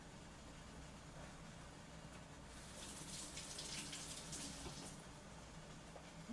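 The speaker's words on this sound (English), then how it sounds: "I am just going to rinse this off real quick." Water from a kitchen tap runs in a steady, faint stream over fresh thyme sprigs being rinsed, splashing a little harder for a few seconds in the middle.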